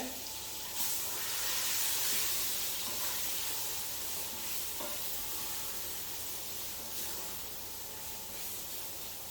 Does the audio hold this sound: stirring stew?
yes